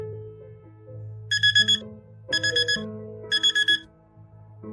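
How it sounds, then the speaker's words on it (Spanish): An alarm clock rings in a quiet bedroom, three bursts of rapid high electronic beeping about a second apart over a low, steady musical bed. "con el sonido de la alarma irrumpiendo en mi tranquila habitación"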